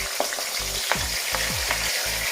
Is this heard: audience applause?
no